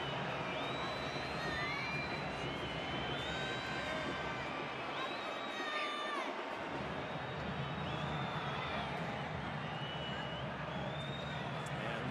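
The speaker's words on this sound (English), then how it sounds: "Now the crowd's starting to get a bit restless as well." Restless football crowd at an Austin vs Violette match gives off a continuous dense roar with scattered whistles and calls throughout, while a commentator talks over it.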